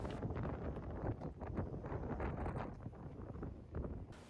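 Strong wind buffets the microphone on a coastal trekking trail in Busan under dark clouds, a steady, loud roar that surges and eases throughout, with no voices.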